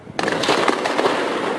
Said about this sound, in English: Gunfire and explosions ring out across the Syrian city of Hama on Wednesday